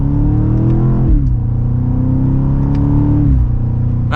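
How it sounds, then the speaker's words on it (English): A 2025 BMW X6M Competition pulls away from second gear with its exhaust droning loud and close, the pitch climbing steadily, dipping at a shift, then climbing again in a smooth, mild acceleration. "if you're buying this car, I hope you want to listen to that exhaust"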